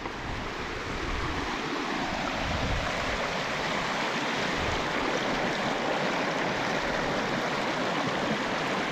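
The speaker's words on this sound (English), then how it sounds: "the River North Esk wears away at the solid bedrock here, wears it smooth, and then there's like this little waterfall almost" The River North Esk pours over smooth, worn bedrock at a small waterfall, a steady broadband rush of water, close and continuous, with a little wind noise.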